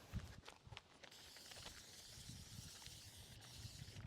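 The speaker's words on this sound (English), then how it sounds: "Let's see what it looks like when I spray it with water." A spray bottle mists water onto a piece of horse chestnut burl wood, a soft, faint, continuous hiss heard close up with no talk.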